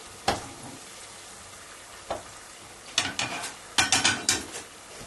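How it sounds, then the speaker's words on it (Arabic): Balloon bread dough puffing and browning in hot oil, heard as a few sharp sizzling bursts and crackles that flare up and fade, close by with quiet gaps between, no voices. "ونحمره بالزيت."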